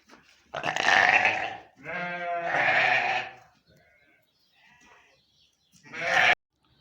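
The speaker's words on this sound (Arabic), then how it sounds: "معانا الخروف ده يا جماعة، خروف لحم سعره 2000 جنيه" A meat sheep bleats loudly up close in three long, wavering calls, with a short faint pause of quieter sounds before the final bleat.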